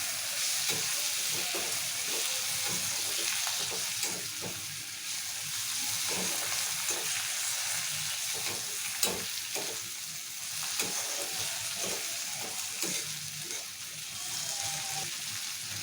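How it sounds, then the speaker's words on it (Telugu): Tomatoes frying in a pan for chicken curry, stirred with a spoon in steady scraping strokes over a continuous sizzle, with occasional knocks against the pan and faint water sounds in the background. "ఇప్పుడు టొమాటోని మంచిగా గుజ్జులాగా అయ్యే వరకు ఫ్రై చేసుకోవాలి"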